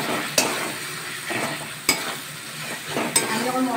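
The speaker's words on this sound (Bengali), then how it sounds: "টমেটম ভালো করে কষিয়ে নেব" Tomatoes with turmeric and salt being sautéed in a pan: a steady close sizzle with three sharp spoon scrapes against the pan spaced through it, no voices.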